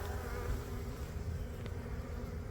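A honeybee colony living under a home hums in a dense, continuous buzz, close and steady, with no voices over it.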